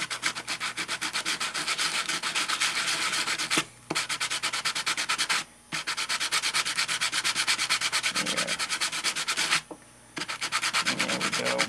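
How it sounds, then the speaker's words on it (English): Rapid back-and-forth scrubbing of 150 or 220 grit sandpaper or emery cloth over N scale model railroad track rails, a loud, close, rhythmic rasping with three short pauses between bursts and no talking. "150 or 220 grit sandpaper or emery cloth and just kind of go over it. Clean that gunk off."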